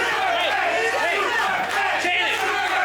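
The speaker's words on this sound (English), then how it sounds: "The crowd wants it." A wrestling crowd at a tables match cheers and chants in a dense, loud roar that never lets up, with voices rising and falling inside the din.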